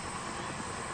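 A helicopter rotor runs in the Arma video game on the Lingor map, a steady dense engine and rotor roar that fills the whole second without pause.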